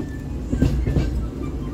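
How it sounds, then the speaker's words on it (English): A train rumbles past on rails at a Disney theme park, a steady low roar with faint clatter, moderately loud and heard alone. "That's not a snake! It's a train!"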